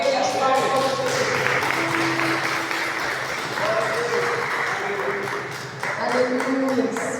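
A church congregation applauding during a worship service, dense continuous clapping throughout, mixed with music and voices.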